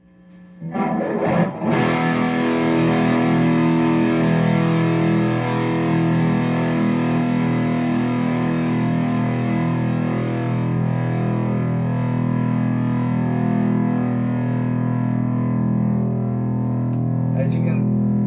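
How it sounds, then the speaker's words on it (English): A heavily distorted electric guitar chord rings out loud and thick, then sustains for many seconds as its grit slowly thins and eases while the note decays. "as this starts to fade away more and more, the tone starts to get a little bit easier and easier, a little less distorted"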